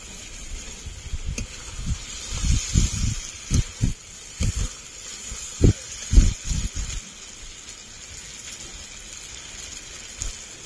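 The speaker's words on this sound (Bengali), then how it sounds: "মাংসটা কষানো হয়ে গেছে, এখন জল দিয়ে দেব।" Mutton curry with fried potatoes in a village-style pot, spitting and sizzling in a run of loud crackling bursts over a steady hiss before settling toward quiet; no one speaks.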